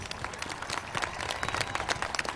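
Graduation audience in a stadium applauding with dense, sustained clapping from a large crowd, steady throughout with no voices standing out.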